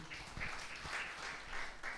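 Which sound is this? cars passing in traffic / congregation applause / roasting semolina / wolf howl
congregation applause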